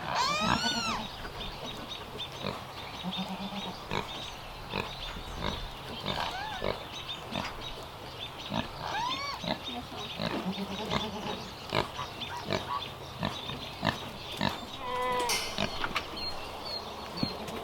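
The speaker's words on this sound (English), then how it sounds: "2 goats" Several goats bleat and grunt repeatedly at close range amid a noisy farmyard, with overlapping animal calls throughout.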